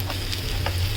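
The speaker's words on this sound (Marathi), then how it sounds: "मसाला छान परतून घेऊया." Masala sautéing in a pan for a spicy brinjal curry, a steady close sizzle with faint crackles throughout, no speech.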